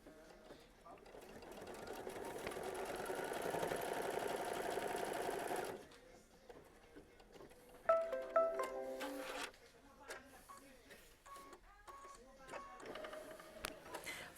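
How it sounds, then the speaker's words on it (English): A sewing machine stitches a strip of fabric in one steady whirring run of about five seconds, close up, followed by quieter handling clicks and rustles. "we're going to stitch it down with machine stitch step 15"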